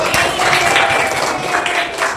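A children's classroom bursting into applause, a brief stretch of mixed, loosely rhythmic hand claps from a group of kids, fairly loud and close, with no clear talking over it.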